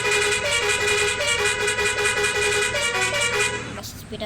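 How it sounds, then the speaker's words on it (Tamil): A Kanyakumari bus horn sounds in a long, steady, loud blast of harmonic tone over the engine and road rumble, then cuts off near the end. "இதில் 3 வகையான ஹார்ன் இருக்குது."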